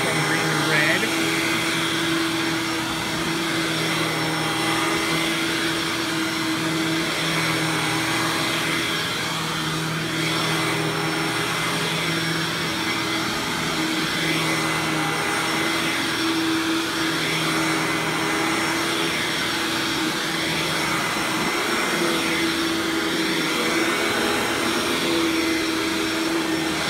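Hoover WindTunnel Supreme U5458-900 upright vacuum cleaner running with a steady, loud motor drone and airflow hiss throughout, unchanging in level, with no talk over it.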